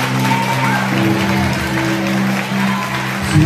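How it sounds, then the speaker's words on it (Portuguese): A church congregation applauding the Lord, a sustained wash of many hands clapping that stays loud and even, with tonal hum and a voice carrying underneath. "Você pode aplaudir ao Senhor Jesus Cristo."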